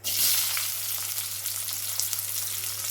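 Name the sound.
chopped onion added to frying pan for capsicum potato gravy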